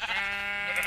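A single loud sheep bleat from the video game Minecraft, a close, sustained wavering cry lasting under a second.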